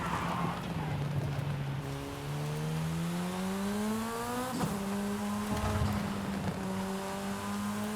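A tiny car in Forza Horizon 5 drives steadily under gentle throttle, its engine whine rising through the gears with smooth, continuous pitch sweeps and a brief shift dip, close and fairly loud throughout.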